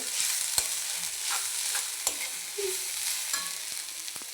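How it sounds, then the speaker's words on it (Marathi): Grated coconut is stir-fried in a pan, producing a faint continuous sizzle with intermittent spatula scrapes and taps, close by and with no voices. "आता ह्याच्यामध्ये मी आपलं किसलेला खोबरं टाकलंय. आता ते छान असं परतून घेते."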